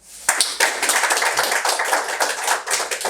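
An audience at a chiropractic closing ceremony at a wellness centre and training institute bursts into close, lively hand clapping, a dense patter of individual claps sustained for a few seconds without speech.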